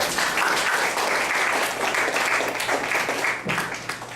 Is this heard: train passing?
no